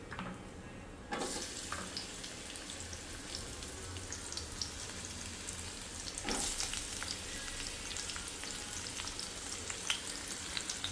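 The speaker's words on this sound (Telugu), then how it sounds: "సో ఆనియన్ బాగా వేగనిద్దాము" Onions frying in a pan, a continuous close sizzle that swells sharply just after the start and again midway, with faint stirring ticks scattered through.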